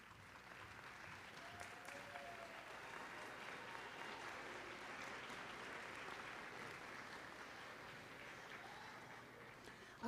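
Steady, fairly distant applause from an audience at a graduate awards ceremony carries on unbroken for about ten seconds, honoring award recipients.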